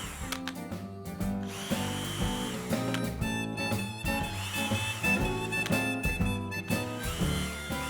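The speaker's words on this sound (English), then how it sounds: "Now, when you reach your desired depth, the drill will stop on its own" A power drill whirs and grinds in uneven pulses, boring into the ground for an underground dog fence, its motor whine rising and dropping as the bit bites into hard soil nearby.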